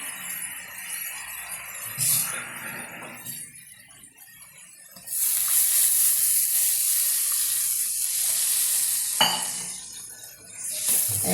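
Water is poured into a tender jackfruit curry masala in a hot pan. A quiet stirring and clinking builds into a sudden, loud, sustained hissing sizzle, then a second burst follows close by.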